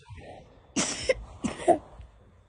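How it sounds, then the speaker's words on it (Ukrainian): Two short coughs from a child, a rough burst followed by another about half a second later, close by in a quiet room. "Температури нема, ти чого кашляєш ти?"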